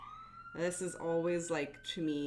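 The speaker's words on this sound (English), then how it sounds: "You have, what, sirens." A siren sounds outside as a faint, steady, slightly rising tone that continues beneath close, continuous talk.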